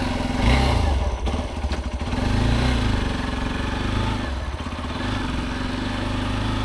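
A motorcycle is ridden from Ahobilam to Gandikota, and its engine drones loud and close the whole way, pulsing slightly, with wind rumble and a few thumps over it.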